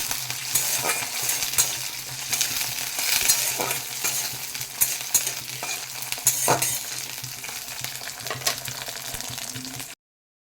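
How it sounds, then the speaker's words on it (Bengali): Green chillies frying in a pan, sizzling steadily and loud with intermittent stirring scrapes for about ten seconds, no voices, then abrupt silence at the end. "আর দিয়ে দেবো কাঁচা লঙ্কা বেশি করে একটু ঝাল ঝাল হবে তো এটাকে খুব ভালো করে একটু ভেজে নেব"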